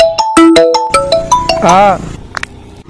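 A loud electronic phone ringtone plays a bright melodic tune of quick notes, ending in a warbling tone.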